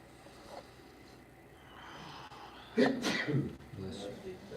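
A single sharp sneeze bursts out midway through casual talk among several people, close and moderately loud against a murmuring background.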